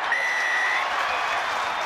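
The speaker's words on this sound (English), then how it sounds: "brings up a huge cheer from the home support" Home crowd at a rugby match cheering and applauding, a dense steady roar of claps and voices filling the stadium, loud and continuous, with a whistle-like tone early on.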